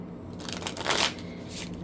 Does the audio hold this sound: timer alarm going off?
no